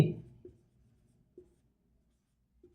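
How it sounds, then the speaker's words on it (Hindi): A pen or chalk writing by hand during a math lesson on integers, a sharp tap at the start followed by three faint, brief scratching strokes spaced apart in a quiet room. "यहां पे लिख देंगे बिंदु सी"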